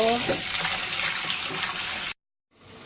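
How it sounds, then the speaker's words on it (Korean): Rice being washed by hand in water at a kitchen sink, a steady close splashing and sloshing that runs continuously, then stops abruptly before resuming faintly. "자, 이제 쌀. 자, 이거 이렇게 씻어가지고 깨끗하게 씻어."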